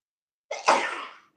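A single sharp sneeze bursts out alone, close and loud, then trails off in a breathy fade.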